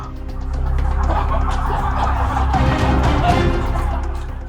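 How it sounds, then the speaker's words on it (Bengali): Dong Tao (dragon) chickens clucking and murmuring in a coop, with a steady low hum of background noise and some scattered movement. "এদের বলা হয় ড্রাগন চিকেন আবার অনেকেই বলেন ডং তাও মুরগি"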